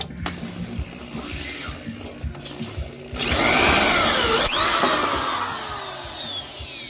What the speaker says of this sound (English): I'm going to go back in and re-drill them a little more